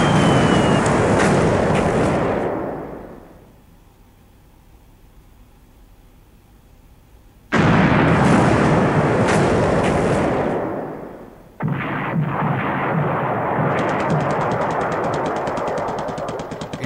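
Torpedo bomber strike explosions in the War in the Pacific: AE strategy game, heard as loud broadband roaring bursts: one blast fading after about three seconds, a second hitting hard, then a sustained rumbling barrage to the end.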